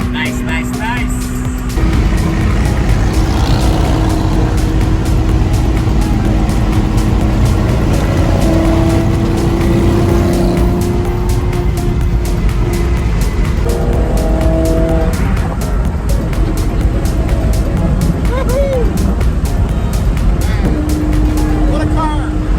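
A Ferrari supercar being driven in Texas, its engine droning loudly and continuously throughout with rising and falling revs, under intermittent speech.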